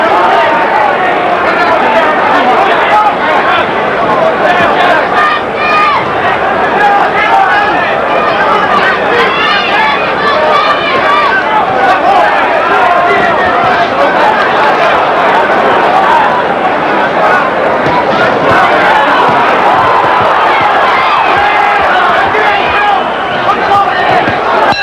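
A large boxing crowd at the 1986 Tim Witherspoon vs Frank Bruno fight roars and cheers loudly and continuously. The dense swell of voices rises throughout, close and overwhelming.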